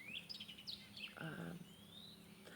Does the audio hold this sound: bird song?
yes